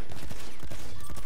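An automatic 12-gauge shotgun in Battlefield 1 fires a rapid string of loud, booming blasts in close succession with no talk over them.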